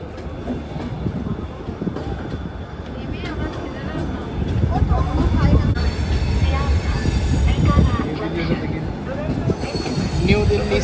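Sealdah-Bikaner Duronto Express pulling into New Delhi station, with loud, steady rumbling of rolling coaches and wheels on track that builds slightly midway, while someone speaks over it.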